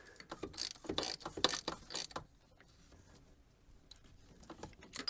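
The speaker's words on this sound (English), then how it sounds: "Click, click. That was the torque spec there." Torque wrench ratcheting and clicking as a spark plug is tightened on a 1994 Ford Ranger; a quick run of close, sharp mechanical clicks up front, then quieter scattered clicks.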